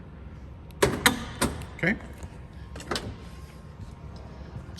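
An electric door popper opens the driver's door of a 1968 Chevrolet Nova, giving a few sharp clicks and thumps close by, with someone speaking briefly.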